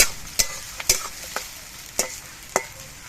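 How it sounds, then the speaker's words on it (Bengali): Sliced onions frying in mustard oil with green chillies in a kadai sizzle softly under six sharp spatula scrapes and taps at uneven intervals, close and moderately loud, with no talking. "এবার এই পেঁয়াজগুলো লাল লাল করে ভেজে নেব।"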